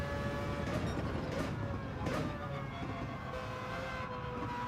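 A race car's engine drones steadily in Gran Turismo 7, its pitch sliding smoothly through the gears as it accelerates along the track, continuous and fairly loud with no talking.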